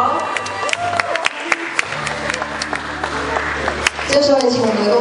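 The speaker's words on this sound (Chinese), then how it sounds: "记得要给他们一点掌声鼓励鼓励哦" Children on stage at a Taiwanese event pose for a group photo while the audience gives scattered clapping that swells toward the end, heard under a voice talking over a loudspeaker.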